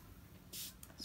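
A spray bottle mists a makeup brush once, a short close hiss of about a fifth of a second, followed by a couple of fainter brief spritz sounds over quiet room tone.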